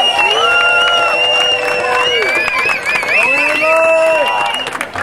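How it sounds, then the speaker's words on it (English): An outdoor rally crowd marking the Occupy anniversary cheers and claps loudly, with whoops and shouting voices over sustained applause in a lively mass that carries through the clip. "can we have a little a round of applause for the New York Occupy movement?"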